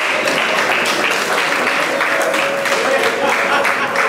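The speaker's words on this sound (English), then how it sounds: "Would you please give Tyflora a round of applause?" Crowd applause at the Caribbean Shrimp Festival 2014 launch event at the Iberostar, a dense, continuous wash of many hands clapping at steady loudness throughout.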